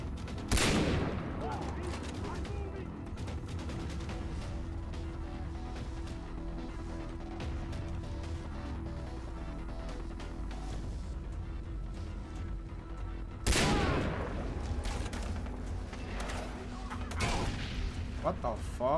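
Gunfire in the first-person shooter Far Cry 3, with two sharp, loud sniper-style cracks about thirteen seconds apart that ring out over a steady bed of distant combat noise and game ambience.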